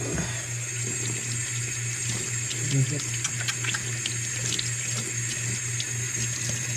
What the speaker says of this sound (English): A little water here, we can get them cleaned up real nice.